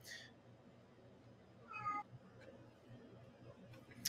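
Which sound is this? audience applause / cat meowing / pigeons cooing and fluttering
cat meowing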